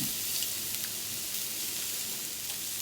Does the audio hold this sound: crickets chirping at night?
no